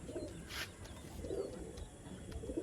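Pigeons kept for sale coo in soft, low, repeated bursts at close range, with faint chirps and a steady background hiss and no talking.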